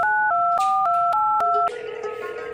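Six quick keypad tones beep in rhythm as a number is dialed, followed by a steady ringing tone on the line.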